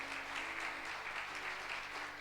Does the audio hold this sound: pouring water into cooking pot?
no